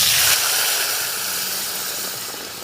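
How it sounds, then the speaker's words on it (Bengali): Dal is poured into a hot pan and bursts into a loud, close sizzle that slowly fades to a steady hiss, with no one talking. "এবারে ঢেলে দেব আমি ডাল।"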